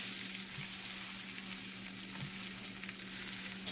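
Quesadillas fry in melted butter in a pan, giving a steady, close sizzle and crackle that carries on without pause and with no talking.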